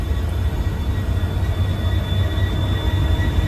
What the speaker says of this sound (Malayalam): ട്രെയിൻ ഇപ്പോൾ ബദർപൂർ ജംഗ്ഷൻ റെയിൽവേ സ്റ്റേഷനിലേക്ക് എത്തുകയാണ്.